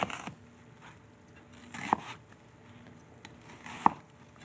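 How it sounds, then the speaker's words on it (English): A knife cuts an onion into large wedges on a board, giving a few sharp, close chopping thuds spaced a second or two apart, with soft scraping and rustling between strokes. "The onion, too, has to be cut into big wedges"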